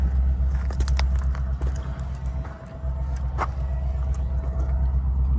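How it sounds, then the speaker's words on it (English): An AEX excavator's engine runs at a steady low rumble close by during an inspection, with scattered clanks and small knocks over the continuous drone and no speech. "This excavator has a blade."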